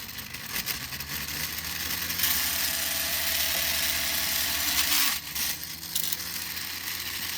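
A 3D printed pulse motor runs with a steady electric whir and hum, growing louder and busier for a few seconds in the middle before settling back, with no talking.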